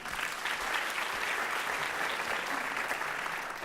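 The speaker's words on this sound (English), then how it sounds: "A round of applause for Nicole." An audience at a university lecture claps for a volunteer, a dense, even burst of applause filling the hall with no break and no talk over it.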